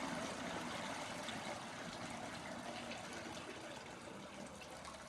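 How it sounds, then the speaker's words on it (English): Homemade beer steeping liquid from grain is poured through a filter, a quiet continuous trickle and splash of liquid running steadily throughout. "pour the steeping liquid"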